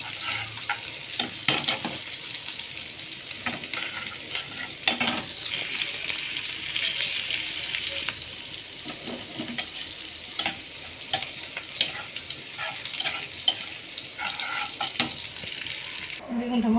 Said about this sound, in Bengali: পেঁয়াজটা দিয়ে দিছি, কাঁচামরিচটা দিয়ে দেবো